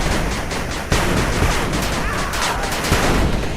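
Rapid bursts of gunfire from the retro-style real-time strategy game 8-bit Armies, a dense, continuous crackle of overlapping shots and explosions with sharp spikes, loud and busy throughout.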